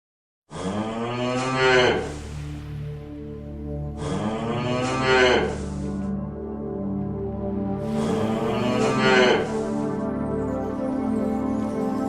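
A cow gives three long, loud, drawn-out moos with short pauses between them, close by and with nothing else heard.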